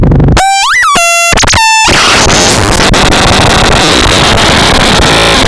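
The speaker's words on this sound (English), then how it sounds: "So you can get that kind of insane feedback noise." Complex oscillator synthesizer with one oscillator frequency-modulating the other, producing loud, dense, chaotic FM feedback noise; a few bright pitched tones and a quick upward sweep open it before it dissolves into a harsh, continuous roaring wash.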